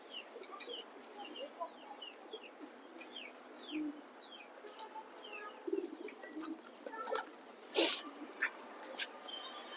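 Racing pigeons in a loft, black and red checker birds, give scattered soft coos and chirps at low level, with some louder bursts of fluttering or movement near the end.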